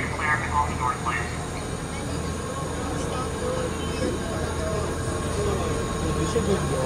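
A New York City subway 1 train runs between Chambers Street and 125th Street, a steady loud rumble of wheels and car noise with faint squeals and a brief announcement-like voice early on.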